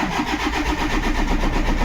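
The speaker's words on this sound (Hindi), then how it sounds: "यहाँ पे इग्निशन ऑन किया मैंने और एक बार क्रैंकिंग करके दिखाऊंगा आपको।" A Toyota Qualis diesel engine with a no-start fault cranks steadily without catching, a continuous rhythmic churning of the starter, loud and close, with no talk.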